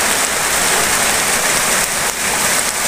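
Steady rain falling during the rainy season over farmland, a dense, even hiss of drops on surfaces that holds at the same loud level throughout with no voices.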